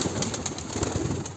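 Pigeons are released from a coop, producing a short burst of soft cooing and fluttering wing flaps at moderate distance, lasting only about a second and a half.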